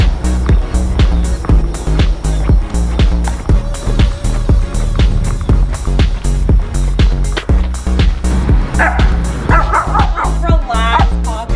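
Several ranch dogs bark rapidly and repeatedly close by, with yips and whimpers mixed in, over a steady low background rumble.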